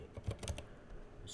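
Quick keystrokes on a computer keyboard while a TrueNAS SCALE Authelia and OpenLDAP setup is configured, a close, irregular burst of clicks early on that thins to a few scattered taps.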